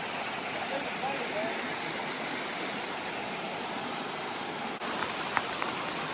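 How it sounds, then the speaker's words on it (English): Steady rain hisses down over a forest beside a creek, a dense, even wash of drops on leaves and ground that runs without a break, faint and close all around. "The rain is coming down"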